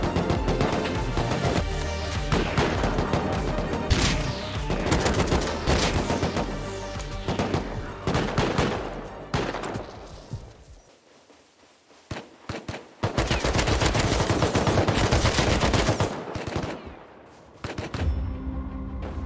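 Sustained automatic gunfire from a turret in a battle-royale island shooter game, dense and loud bursts with crashes and booms, a brief lull midway, then renewed heavy firing.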